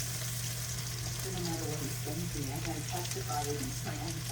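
Eggs scrambled in a hot pan for fried rice: a steady close sizzle of frying under a low hum, while a voice talks over it.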